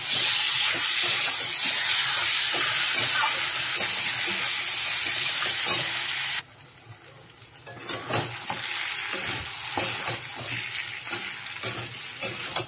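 Marinated mutton with fried onions fries and sizzles loudly in a pan with a steady steam hiss, which drops away midway and is followed by quieter sizzling and stirring clatter.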